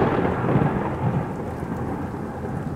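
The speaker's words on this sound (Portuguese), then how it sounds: "A chuva fina riscava o para-brisa do meu Corsa velho," Heavy rain falls steadily in a thunderstorm, with a deep rolling rumble of thunder under the dense, constant downpour, loud and close with no voices.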